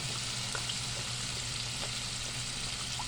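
Dried fish sautés in a pan on medium heat, a continuous even sizzle with faint, occasional stirring taps, no voices.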